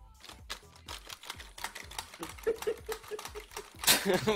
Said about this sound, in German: ich hab grad die Tastatur gereinigt mit meinem T-Shirt